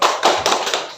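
A school class claps out a rhythmic 'tepuk semangat' chant, several loud, quick bursts of hand claps in a row with a faint voice mixed in.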